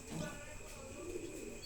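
Pigeons at a farm coo softly, faint low murmuring calls running under a background hum.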